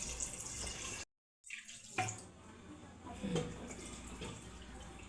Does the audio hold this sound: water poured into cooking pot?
yes